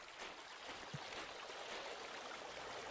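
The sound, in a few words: splashing through water in Cabela's Big Game Hunter video game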